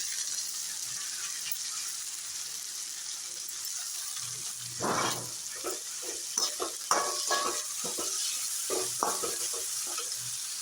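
Tomatoes, coriander, curry leaves and mint fry in a pan with ginger-garlic paste for a chicken gravy, sizzling softly under a series of scraping spoon stirs and clinks, close and fairly quiet.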